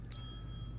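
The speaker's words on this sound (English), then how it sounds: "He rung the bell!" A single bright bell strike rings out once near the start, its clear tones lingering and slowly fading over a steady low background hum.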